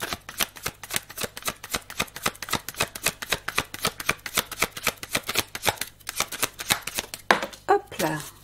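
Tarot cards are shuffled in rapid, crisp riffling bursts, a steady run of close snapping flicks, followed by a card being drawn with a soft slide near the end while a voice talks briefly.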